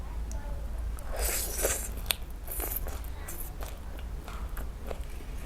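Fresh papaya leaf dipped in sambal chili paste is eaten by hand, giving a few soft crunching bites and wet chewing over faint rustling.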